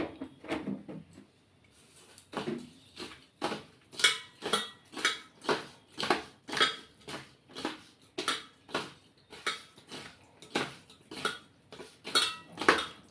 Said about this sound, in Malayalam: ഇത്തിരി മഞ്ഞൾപ്പൊടി, മുളക് പൊടി, മല്ലിപ്പൊടി കൂടി ചേർത്ത് നന്നായി മിക്സ് ചെയ്ത് കൊടുക്കാം.